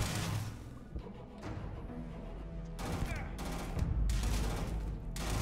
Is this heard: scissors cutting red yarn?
no